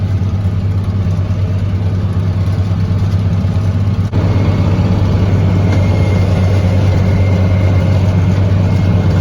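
A tractor pulls a 14-foot mower through grass at about 5 to 6 miles per hour, a loud, steady engine drone with a constant low rumble and broadband cutting noise throughout.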